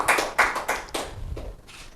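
A few scattered hand claps from an audience at a Rajasthan Parishad gathering welcome Dharamchand Lunkad, sounding as separate, fairly close bursts that thin out and fade within two seconds.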